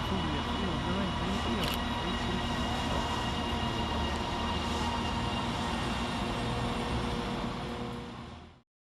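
A Northern passenger train on the Manchester Airport to Liverpool Lime Street service via St Helens Junction at Manchester Oxford Road station, giving a steady close rumble and hum throughout before cutting off at the end, with a murmur of voices underneath.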